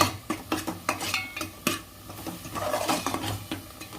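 Onion paste frying in oil in a pan is stirred with a utensil, giving repeated scraping knocks against the pan over a steady soft sizzle, close and fairly loud, with no talking.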